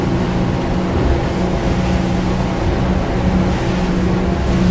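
An Axopar 37 XC motorboat runs at about 35 knots over decent waves off Mallorca, a loud, steady engine drone mixed with rushing water and hull slap, close and continuous.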